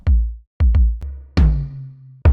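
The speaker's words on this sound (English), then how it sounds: "The third sound I added here is a synthesized kick drum." Synthesized kick drum hits, deep and punchy, played alone in a short irregular pattern: a single thump, a quick double, then louder hits with a brighter crack and a sustained low tail.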